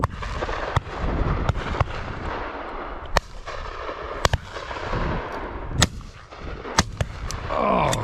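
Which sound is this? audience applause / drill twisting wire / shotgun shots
shotgun shots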